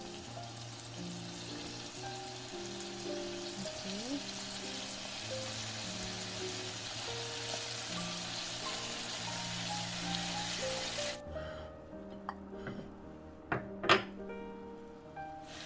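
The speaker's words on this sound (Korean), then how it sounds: "고기 마저 볶아 볼게요" Meat stir-frying in a pan for a smoked duck stuffed pumpkin dish gives a steady, faint sizzle under quiet music, with a few soft kitchen knocks near the end.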